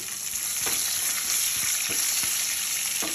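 Garlic fries in hot oil in a pan, a steady close sizzle with a few soft stirring scrapes and light clicks.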